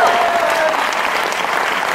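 Audience at a Hindi-Urdu poetry recital breaks into steady, loud applause, a dense wash of clapping that holds evenly throughout.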